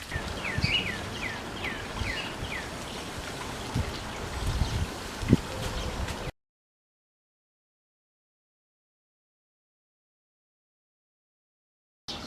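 Gentle trickling of a garden waterfall outdoors, a steady soft water wash with bird chirps above it, running about half the clip before cutting to silence.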